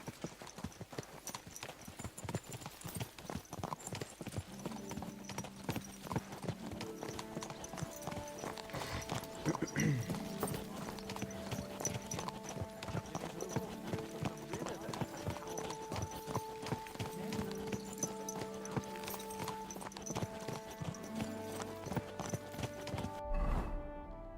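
Continuous clip-clopping hooves at a steady trot in the video game Kingdom Come: Deliverance 2, with occasional whinnies, over background music and a talking voice.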